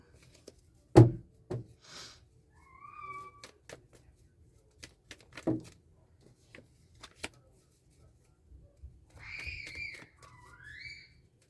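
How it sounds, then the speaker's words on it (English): Playing cards are shuffled at a table during a card game, with scattered close riffles and soft slaps separated by quiet gaps, while brief whistle-like tones sound in the background. "Sorry, I'm just shuffling right now."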